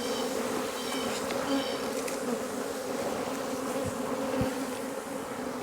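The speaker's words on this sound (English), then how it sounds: "look at the bees I just put in the air." Honey bees buzzing in the air around an opened hive during a honey pull, a dense, steady drone of many wings, fairly quiet and continuous with no voices.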